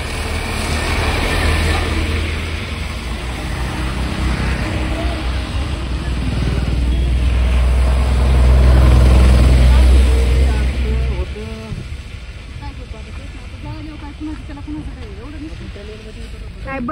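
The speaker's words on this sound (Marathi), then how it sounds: "इथून नांदेडपर्यंत ट्रॅफिक सुरू आहे." Car and heavy vehicle engines rumble low and steady in a road traffic jam stretching toward Nanded. The drone swells, then drops away partway through, leaving lighter engine noise while people talk over it.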